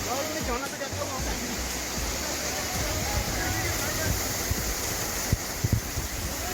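Abdullah waterfall in Darhaal sends out a constant broadband rush of falling water, loud and close, with a few soft knocks and voices mixed in near the end.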